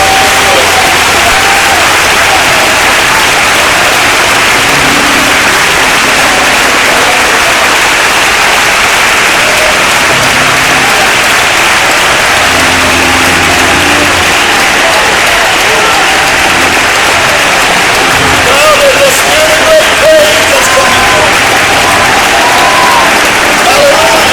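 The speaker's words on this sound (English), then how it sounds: "Would you give the Lord a big hand clap of praise and shout tonight?" A church congregation at a 2013 Ocala District camp meeting claps loudly and shouts praise, with sustained dense applause and cheering voices filling the room for the whole stretch, swelling slightly near the end.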